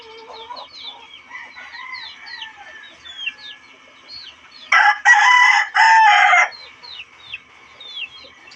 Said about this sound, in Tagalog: yung aking mga manok mga broiler